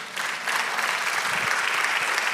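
A church congregation applauds, a dense, even wash of many hands clapping at once, steady and moderately loud throughout.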